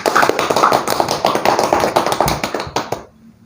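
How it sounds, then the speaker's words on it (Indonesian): A small group claps hands nearby, a dense run of sharp claps for about three seconds that then tapers off into quiet. "Nah, tepuk tangan ini Mas Nugroho."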